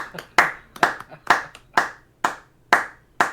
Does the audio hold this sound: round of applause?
yes